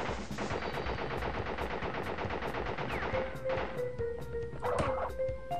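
A mafia boss fires a World War-era rifle in Crash Bandicoot, loosing a rapid, evenly spaced volley of sharp cracks that then breaks into scattered shots mixed with game tones.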